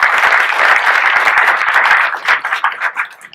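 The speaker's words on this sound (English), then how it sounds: "Round of applause for Hal Hutch." An audience at a gadget tech event gives a round of applause, dense close clapping that thins into scattered claps and dies away.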